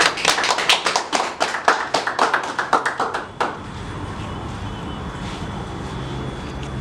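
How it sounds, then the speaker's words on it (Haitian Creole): A crowd claps in quick, dense bursts for about three and a half seconds, loud and close, then the applause stops abruptly and leaves a steady room hum with faint background noise. "on a applaudi pour nous"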